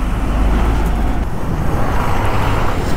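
Steady roar of cars and heavier vehicles crossing a bridge near Mantralaya, a dense continuous rumble of tyres and engines close by with no break in the traffic, no voices.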